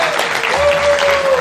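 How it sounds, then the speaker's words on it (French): Applause from a crowd, a dense patter of clapping with a sustained tone running underneath through the second half. "On va applaudir."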